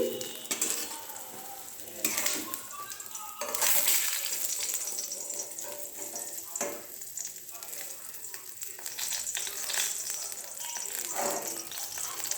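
Eggplant slices fry in hot oil in a home kitchen pan, a steady crackling sizzle running throughout, with occasional clinks and scrapes of a utensil turning and lifting the pieces.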